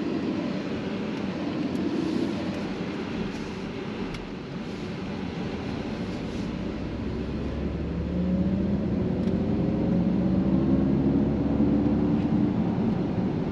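A 2023 Mercedes EQS 580 4MATIC electric SUV with 536 hp accelerates hard from 0 to 60, a steady low road and wind rumble with a rising electric whine swelling over the final seconds.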